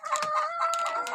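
Eight-month-old Tiger breed chickens crow and cluck at close range, a loud, continuous run of overlapping calls with no talking.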